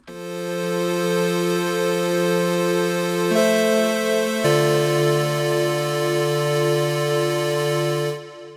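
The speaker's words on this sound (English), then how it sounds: "I've got a polygrid instrument going into a delay effect, and it sounds like this." A sustained synthesizer chord from a Polygrid instrument through a delay effect, with bright harmonics, shifting pitch twice, its notes smeared and trailing with echoes before fading at the end.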